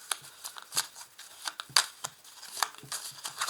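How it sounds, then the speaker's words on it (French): Light tarot cards being handled and flipped over, giving quick soft snaps and papery flicks at irregular intervals, close and quiet, with no speech. "Elles sont très légères ces cartes, donc elles se retournent facilement"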